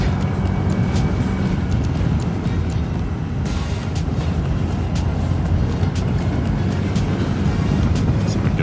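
A small 125cc Honda scooter engine strains at high revs toward 80, a steady loud drone mixed with heavy wind rush the whole way through.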